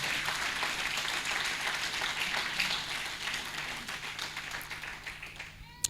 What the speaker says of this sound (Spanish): Entonces, dele al Señor un aplauso.